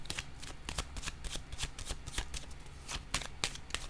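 Cards are shuffled, handled and laid down during a horoscope card reading, producing a steady stream of soft, close riffling and slapping taps with no talk.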